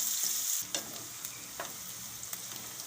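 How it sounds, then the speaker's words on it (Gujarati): Onions fry in a pan toward golden brown for a Gujarati onion gathiya curry, with a continuous close sizzle and a few sharp stirring scrapes. "ડુંગળીને આપણે આમાં ગોલ્ડન બ્રાઉન જેવી થવા દેશું"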